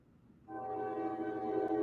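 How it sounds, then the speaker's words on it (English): After a brief quiet moment, a train horn blares, one steady sustained honk that holds loud to the end. "That's a train. Trains honk."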